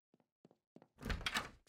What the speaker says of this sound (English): Haley, get the door.